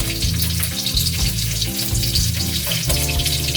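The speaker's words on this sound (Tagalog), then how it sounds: "magsisimula na tayo mag-isa ng ating gulay" Vegetables sautéing in a hot pan, a loud continuous sizzle and crackle of frying with occasional stirring, close and alone with no talk.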